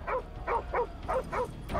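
A dog in the video game Modern Warfare Remastered barks in a short rhythmic run of about five yips. The barks are fairly close and moderately loud, with no voices.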